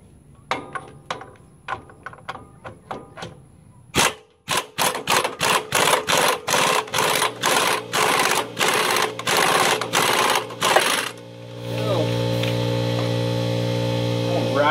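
An impact wrench hammers on the drive clutch of an EZGO golf cart, first in sparse clicks, then in a loud series of rapid bursts, before settling into a steady whirring hum.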